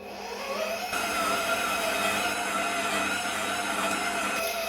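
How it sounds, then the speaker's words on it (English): An electric mixer runs on its lowest speed working pizza dough, giving a steady motor whir with a faint tonal hum that starts softly and holds level throughout, close by and alone. "I'm going to finish the mixing process on the mixer"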